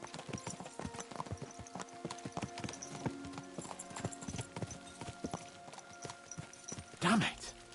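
Horses' hooves clip-clop in a steady, driving rhythm in Kingdom Come: Deliverance II, close and fairly loud, with a brief louder whinny-like burst near the end; a voice talks over the ride.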